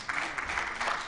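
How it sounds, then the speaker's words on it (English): A brief burst of audience applause at a national agroecology symposium, steady and crowded, with many hands clapping together at a moderate distance. "Another round of applause as he"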